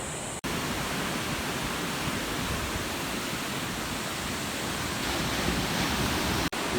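Ocean waves at Bingin Beach, Bali, make a steady, dense roar of surf that holds at an even level throughout, with no voices over it.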